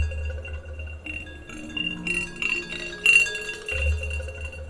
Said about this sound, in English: Or we'll try maybe Tic Tacs bouncing on glass.